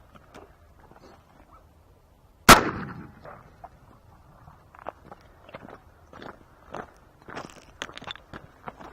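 A shotgun slug fires into a wooden tabletop with one sharp, loud blast that rings out briefly, followed by scattered small knocks and rustles nearby.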